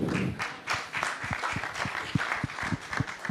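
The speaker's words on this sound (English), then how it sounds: "a big applause again to Raphael" A conference audience at Accelerate2030 in Geneva applauds a speaker, giving a steady wash of many hands clapping at close range, with a few sharper individual claps standing out.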